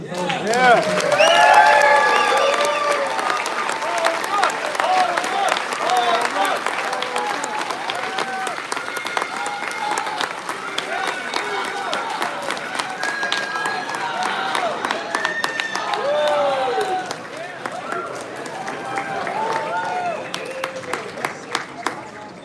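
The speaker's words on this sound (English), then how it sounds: "Let's give them a round of applause." Banquet audience applauding and cheering for honored baseball figures at a World Series banquet, sustained clapping from a large crowd with scattered voices, strong at first then steady throughout.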